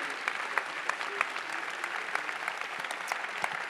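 Sustained applause from a ceremony audience honoring a sports award winner receiving a trophy, dense steady clapping with a few sharper individual claps standing out, moderately distant and even throughout.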